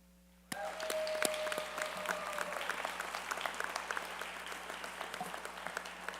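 Sudden burst of audience applause at a College of Optometry graduation ceremony, a dense steady wash of many hands clapping that carries on for several seconds at moderate loudness.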